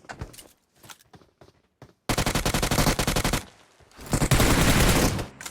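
Gunfire in the video game PUBG Mobile: scattered single shots at first, then long loud automatic bursts of rapid fire that come in close, with a brief gap between sustained volleys.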